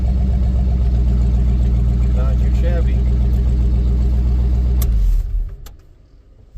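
A 1955 Ford gasser's engine idles at about 900 RPM with a steady low rumble while someone says a few words over it, then the engine shuts off and it falls quiet.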